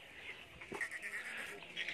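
Several goats held for sale on a farm bleat in short, fairly faint calls, with someone talking nearby and light background noise.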